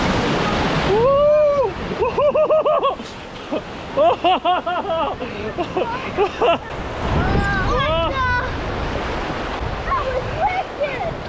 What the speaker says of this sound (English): There we go, we got some rapids.